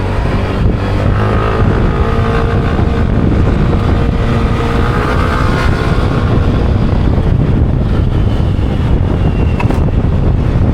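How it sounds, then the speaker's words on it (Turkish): Constant loud wind roar buffets the microphone inside a rider's helmet over the drone of a moving KYMCO Skytown 125 scooter motor, with no pauses throughout. "Tam buradan rüzgar kesiyor. Buradan geliyor kaskın altına."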